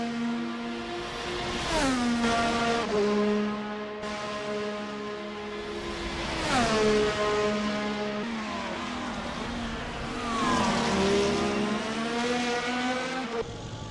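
Race car engines in a sim racing game on a Canada round scream through repeated rising and falling revs, downshifting with sharp pitch drops and climbing again, loud and close with faint tire scrub underneath.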